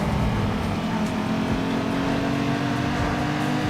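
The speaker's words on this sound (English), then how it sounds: "at the start of every race, you're just revving the shit out of it" A Honda Civic engine revs hard at a race start in Need for Speed Underground 2, a loud, sustained, buzzing drone that stays steady throughout, with faint background talk mixed in.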